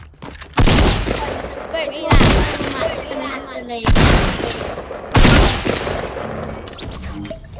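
Gunfire in the Fortnite video game comes as four loud, sustained bursts of rapid shots, spaced about every one and a half seconds, while players talk briefly between them.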